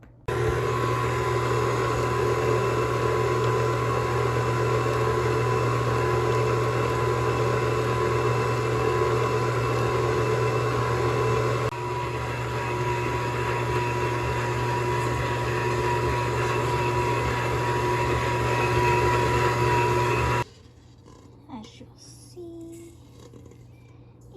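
A kitchen stand mixer churns Italian bread dough with flour, a steady loud motor hum that shifts slightly midway, then cuts off abruptly, leaving quiet handling sounds.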